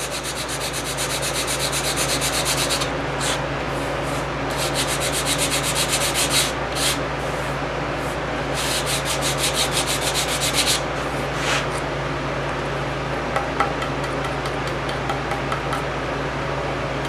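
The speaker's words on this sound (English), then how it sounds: "We can sand these right away." Steady, continuous sanding on a burn-in fill repair in wood, a close rasping rub with a constant mechanical hum underneath, lasting throughout with slight rhythmic variation and no talking.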